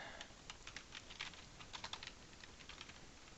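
Quiet typing on a computer keyboard, a steady patter of soft key clicks in uneven bursts, close by with faint background hiss.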